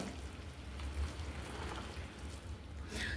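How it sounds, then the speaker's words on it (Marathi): A soft steady bubbling hiss of sugar syrup boiling in a pan, faint and continuous with a low background hum. "आपल्या पाकाला छान अशी उकळी फुटलेली आहे"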